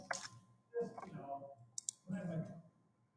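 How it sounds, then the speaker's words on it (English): Quick bursts of clicking keys on a computer keyboard, close and fairly quiet, come in short irregular runs with a voice talking over them. "Type it in."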